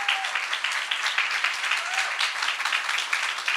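Audience applause at an international conference on circular makerspaces, a steady dense clapping from a crowd that holds an even level throughout, with no talking over it.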